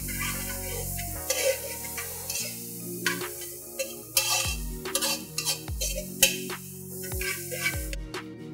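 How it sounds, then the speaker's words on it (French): Vegetables sweat in a saucepan over low heat while a utensil stirs them, with irregular scraping and clinks against the pan over a soft, low sizzle. "C'est à peu près faire suer les légumes"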